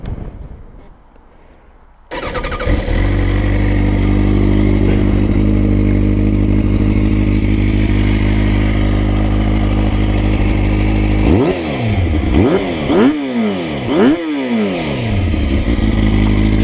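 A new motorcycle is started: a short crank and catch into a loud, steady idle, then several sharp throttle blips rise and fall in quick succession before settling back to idle. No voices.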